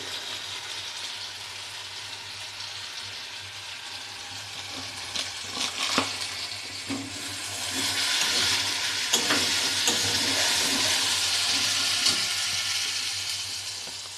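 Spices and Kashmiri chilli powder sizzle as they are stirred in a hot frying pan for a vegetarian dish, with a steady hiss, scraping stir strokes and a loud bubbling surge midway.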